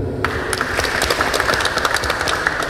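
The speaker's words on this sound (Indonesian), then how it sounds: "Tepuk tangan dulu." Audience members at a Ramadan lecture at UIN Malang clap together, with a close, steady patter of individual claps that starts abruptly and keeps going throughout.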